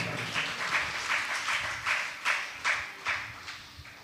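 A church congregation applauds together in praise during a pastor's sermon, a steady wash of many hands clapping in rhythmic pulses, filling the room at moderate loudness with no voices on top.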